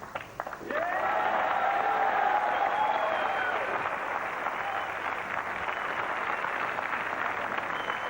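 Crowd at the 2000 World 9-Ball Championship final applauds the new champion, with steady sustained clapping after a brief quiet start, while a commentator talks over it.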